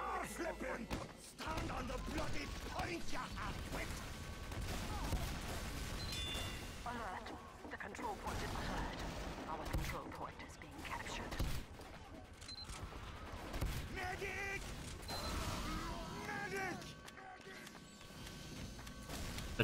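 Demoman weapons firing during a competitive Team Fortress 2 match: a dense, continuous barrage of blasts and thuds layered with game effects, with voices talking over much of it.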